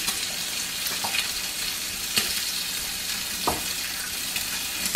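Bubble and squeak frying in a pan, cooked as a 1940s wartime ration-era dish without eggs, gives a steady close sizzle with scattered crackles and pops and no talking.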